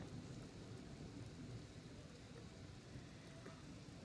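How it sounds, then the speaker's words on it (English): Steady rain pours during a thunderstorm in Santa Clarita, a constant wash of hiss and patter with low rumbling underneath, heard at moderate distance with no talking. "It's thunder and lightning."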